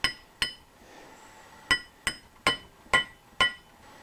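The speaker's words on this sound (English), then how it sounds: "Take some kind of hammer." Hammer blows on a metal belt sander part during repair in a workshop, seven sharp ringing metallic strikes at irregular intervals, close and distinct, with a quiet background between hits.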